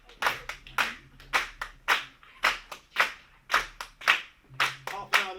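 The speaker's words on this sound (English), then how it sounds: "so just start clapping now" An audience claps in a steady, even rhythm to welcome dancers at a celebration day, with the sharp, close, regular hand claps at roughly two per second and no talking.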